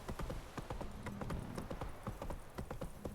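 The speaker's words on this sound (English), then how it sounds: "I'm glad Roach can safely get across it" Horse hooves clip-clop across a bridge in The Witcher 3 video game, a brisk, fairly even series of hollow knocks at close range, moderately quiet, with no voices over them.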